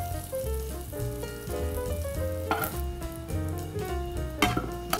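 Pancetta frying in its own rendered fat in a pan, a steady crackling sizzle with a few clinks and scrapes of a utensil, alone with background music and no talking.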